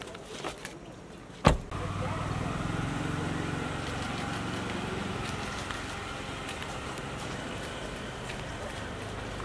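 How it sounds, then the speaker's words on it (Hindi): A car idles and rumbles nearby, steady and fairly faint, with a sharp thump like a door near the start, on a street outside a Bollywood celebrity gathering. "गाड़ी है गाड़ी है"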